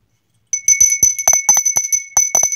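A bright bicycle-style bell rings in a quick series of repeated dings after a half-second of silence, loud and close, with a sustained metallic shimmer between strikes.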